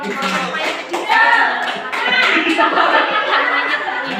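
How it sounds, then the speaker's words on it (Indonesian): Classroom group doing a rhythmic spirit clap, bursts of patterned hand claps in quick sequence, close and fairly loud, mixed with some laughter and voices. "Semangat dulu. Tepuk semangat."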